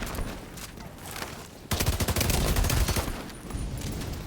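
Assault rifle gunfire in The Division 2, a sustained rapid burst of close, loud shots over a steady game ambience, with quieter background noise before and after the volley.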